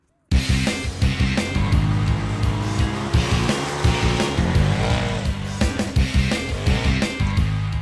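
A 2018 Polaris RZR Turbo 4-seater UTV powers through mud, its engine roaring loud and continuous with rising and falling revs and tire noise throughout.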